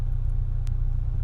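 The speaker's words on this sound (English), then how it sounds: "So inside the car now, engine's running through this section" A Honda Integra 1.8 Type R engine idles as heard from inside the car, a steady low rumbling drone that holds evenly throughout with no speech.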